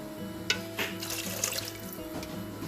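Water runs from a tap into a pressure cooker of channa daal, a steady close splashing stream with a few brighter splashes and drips.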